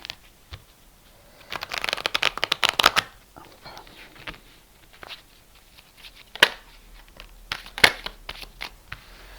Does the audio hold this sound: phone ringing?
no